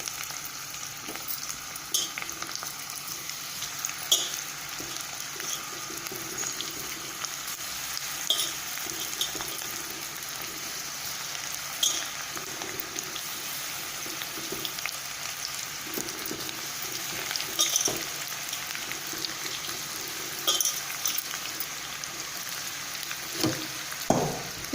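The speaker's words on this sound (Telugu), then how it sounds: "అది మనం ఆయిల్లో వేసి డీప్ ఫ్రై చేసుకోవాలి" Cauliflower (gobi) pieces deep fry in hot oil for Gobi 65, making a continuous bubbling sizzle with small pops and crackles that holds steady close by.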